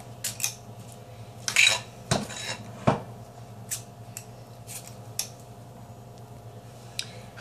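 Cupcake batter, banana style, is scooped with an ice cream scoop into molds, giving scattered soft clicks, taps and scrapes of metal against the tray, close by and with pauses between.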